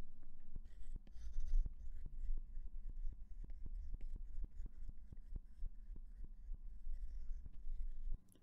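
A pen drawing a diagram on paper: steady, close scratching strokes with regular tapping marks as lines are drawn, continuous and moderately quiet, with no speech.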